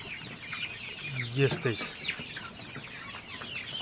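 Local chickens cluck and murmur nearby in a short burst of rising, hen-like calls that then fade into low background noise, with a brief spoken remark overhead.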